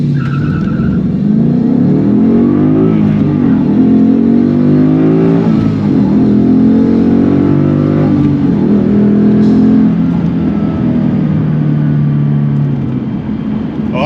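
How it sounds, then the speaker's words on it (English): A 2016 Ford Mustang launches hard from a dead stop, its engine climbing loudly through rising revs with a brief dip at a gear change before pulling strongly again, close and continuous throughout. "Start from a dead stop here. Just give her heavy acceleration."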